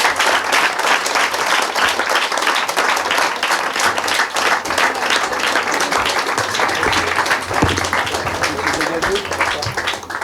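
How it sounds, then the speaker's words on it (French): A live comedy show audience gives loud, sustained applause with dense clapping that carries on for the whole stretch, with a few voices mixed in. "On peut leur faire un tonnerre d'applaudissements"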